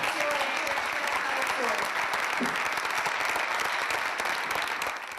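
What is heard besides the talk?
audience applause at party congress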